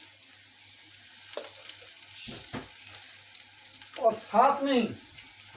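Onions browning in a pan give a quiet sizzle with a few scraping stirs, and someone speaks briefly near the end.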